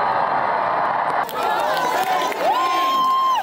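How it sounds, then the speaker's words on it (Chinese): A large outdoor crowd cheers and shouts as King Charles and Camilla appear on the Buckingham Palace balcony: a dense, steady roar of many voices, with a rising whistle near the end. "登上白金汉宫的阳台上，查尔斯国王和卡米拉一出场，瞬间迎来民众高声欢呼"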